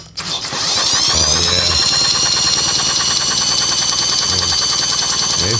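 A 1960s Sears Custom lawn tractor's Tecumseh 6hp engine is cranked over, giving a loud, steady mechanical whirring churn that runs for several seconds without a break.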